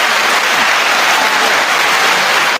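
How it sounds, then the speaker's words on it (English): Audience clapping at a teen event, a dense steady wash of many hands applauding loudly and continuously, cutting off abruptly at the end. "let's clap it up."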